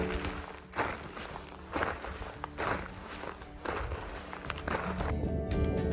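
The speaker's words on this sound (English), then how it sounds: "Walking on the salt crust feels like stepping into another planet" Footsteps crunching across the salt crust of a salt lake in Turkey, a slow, steady series of close steps with faint outdoor ambience and no talking.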